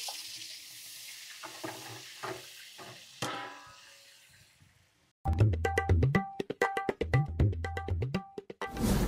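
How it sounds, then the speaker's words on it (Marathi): Onion and green chili go into about 3 kilograms of hot oil in a large pot over an open fire. Quiet stirring and scraping come first, then a sudden loud, crackling sizzle bursts up and keeps popping. "3 किलो तेल टाकलेलं आहे. आता आपण कांदा आणि हिरवी मिरची टाकणार आहेत."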